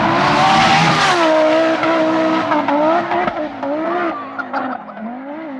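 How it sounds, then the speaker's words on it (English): An Audi Quattro Group B rally car roars loud and close, its engine note rising and falling through gear changes with tyre squeal mixed in, alone without talk. "of course it's the noise of the Quattro"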